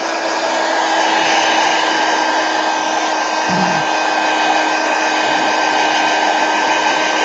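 A hair dryer blows on a freshly painted drawing, a loud, steady whooshing drone held close for the whole stretch with only a brief small bump partway through.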